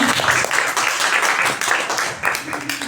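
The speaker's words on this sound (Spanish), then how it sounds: "Le vamos a dar un caluroso aplauso de bienvenida." An audience gives a warm welcoming round of applause for a guest at a talk on dramaturgy, a steady wash of clapping with a voice speaking over it.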